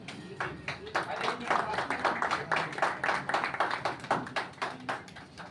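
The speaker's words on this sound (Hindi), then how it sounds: "उनके लिए जोरदार ताली हो जाए" A small group claps in an office gathering in Agra, fairly quiet and near, with steady, uneven hand claps running throughout; a voice is faintly heard under the clapping.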